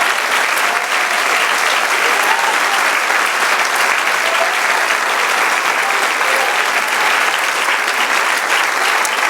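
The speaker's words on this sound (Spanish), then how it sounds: "Dar un aplauso al Eterno." Congregation applauding during a church service, a thick, continuous wash of clapping from many people that stays loud and even for over nine seconds without a break.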